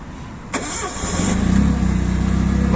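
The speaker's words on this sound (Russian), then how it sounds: "Сейчас сделаем запуск двигателя и проверим основные функции данного погрузчика" A 1.5-ton forklift's engine cranks briefly, catches and settles into a steady, close, rumbling idle.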